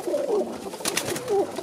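Domestic high-flying pigeons coo softly up close, two short throaty coos with a brief flutter of sound between them.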